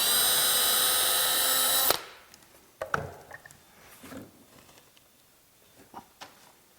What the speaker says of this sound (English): drill and mount the handle just for a little ease of pushing this on the fence